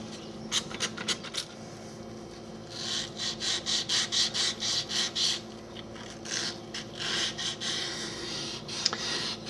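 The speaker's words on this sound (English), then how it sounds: "Even when I'm sanding the stone, I'm carving the stone." Rhythmic wet sandpaper strokes scrape back and forth across carved stone, a quick set of short passes and then a longer run of steady strokes, up close.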